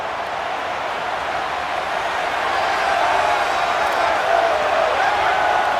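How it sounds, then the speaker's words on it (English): Stadium crowd in a college football video game, a broad roar of cheering that swells gradually from steady murmur to a louder, sustained wash of noise, distant and continuous. "this crowd coming to life here, trying to help the defense get a stop"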